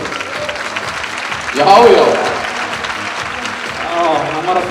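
Steady applause from an audience at a stallion show for the horse Lukku Láki, a dense patter of clapping throughout with a voice briefly speaking over it.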